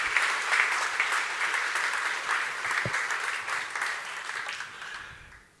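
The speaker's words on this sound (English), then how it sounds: "you can now have an applause quickly for me" Audience applause at the ALM Summit, a business conference: sustained, dense clapping from a sizeable crowd that holds steady for several seconds, then thins and fades out near the end.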